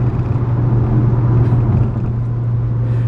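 A Camaro engine drones steadily at speed, a loud, continuous low rumble with a strong hum that holds for about three seconds with no one speaking.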